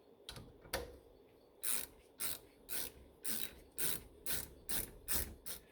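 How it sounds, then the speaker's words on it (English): A 7mm Allen key tightens rear brake bolts on a Mercedes-Benz GLK or C-Class, giving about nine evenly spaced, close ratcheting clicks that start slowly and speed up, with no talking. "And now we'll take our 7mm Allen and install these into place."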